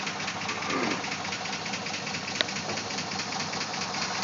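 A car engine revs with a suspected lifter tap or rod knock. It gives a steady, buzzing run of rapid ticking knocks from close by, with one sharp clack partway through.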